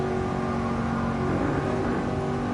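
A Mercedes-AMG Black Series engine pulls hard under steady acceleration on the Nürburgring, a loud continuous droning roar heard from inside the car.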